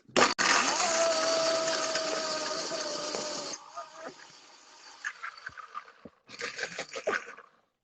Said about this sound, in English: Don't worry if you don't have a Vitamix, a high-speed blender will do, or probably even a food processor.